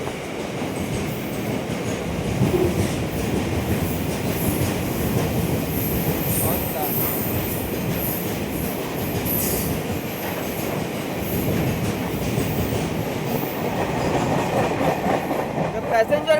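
A passenger train on the Central Railway line near Kopar rolls past in a loud, continuous rumble of wheels and carriages, with squealing wheels and clattering rail joints throughout.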